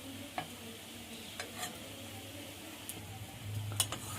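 Cane greens stir-frying with mixed vegetables in a pan: a faint, low sizzle under scattered spatula scrapes and clicks, close up, no voices.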